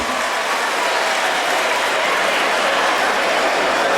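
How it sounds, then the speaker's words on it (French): Loud, dense applause fills a pageant hall for a Miss Togo 2015 contestant during the question round, a steady unbroken wash of clapping from a large crowd with no pauses. "Applaudissements pour elle."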